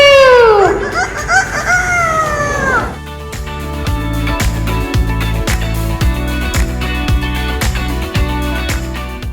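A parrot imitates a rooster's cock-a-doodle-doo at a bird show at an aviation museum, giving a loud descending crow for about three seconds before rhythmic music takes over.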